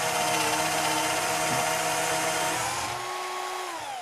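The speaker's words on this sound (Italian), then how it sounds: "va bene, di forare ce la fa, il trapano ce l'ha la forza." A Parkside PWBSA 12 A1 12V cordless angle drill boring a large hole runs at a steady high-pitched whine for about three seconds, then slows and winds down as the motor eases off, loud and close.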